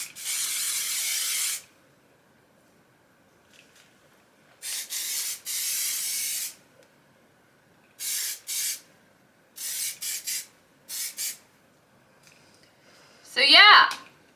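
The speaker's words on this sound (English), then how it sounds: "I like to spray in my hairspray." Hairspray from an aerosol can misted onto hair in several hissing bursts, long ones at first and then shorter puffs, close and clear with quiet gaps between them.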